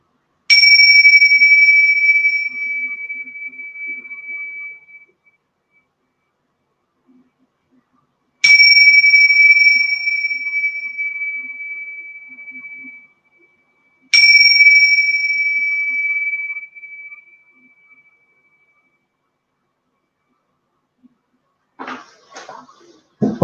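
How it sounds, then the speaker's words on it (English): Dragon bells are struck three times, each a bright, sustained ring that slowly fades, with several seconds of quiet between strikes and a few faint taps near the end. "It's beautiful dragon bells."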